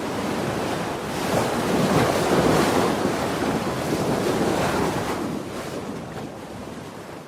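Sea waves surge and wash continuously under steady gusting wind in a radio drama scene, a full, dense roar that swells and eases with no voices.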